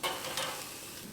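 Tri-tip steak sears in a hot pan with a steady hiss, two louder bursts near the start and then an even sizzle that fades slightly over a brief moment.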